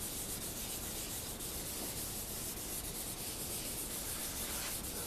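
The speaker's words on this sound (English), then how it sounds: "as you're rubbing this in, then make sure you're rubbing it evenly" A cloth rubs red burst color steadily and evenly into a maple burl Telecaster guitar body, giving a continuous close scuffing and swishing with no pauses.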